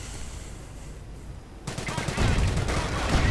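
Gunfire rattles in a close battle in a 1v1 strategy video game, a dense barrage of shots and blasts that swells suddenly midway and keeps going loud to the end.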